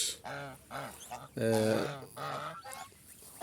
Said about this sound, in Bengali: হাঁসকে বলা হয় রাধা হাঁস বাংলাদেশের দেশি হাঁস